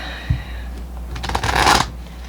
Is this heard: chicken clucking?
no